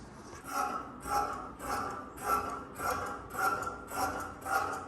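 Scissors cut straight through kurti fabric in a run of about eight regular, rhythmic crunching snips, close and fairly quiet, with no talking.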